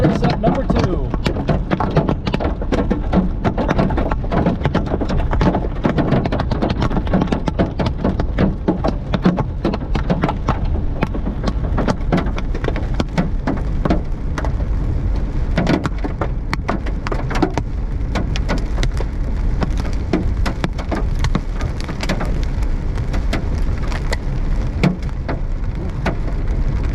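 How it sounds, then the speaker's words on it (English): A massive hailstorm near DFW, Texas, pelts hard surfaces in a dense, continuous roar of sharp clattering impacts that stays loud and steady throughout, with a voice talking faintly beneath it. "Hail always seems to sound way worse than it is until it's, you know, massive."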